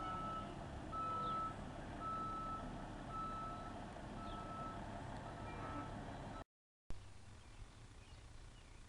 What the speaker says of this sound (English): Now the local boys come out here and practice their fire truck driving skills.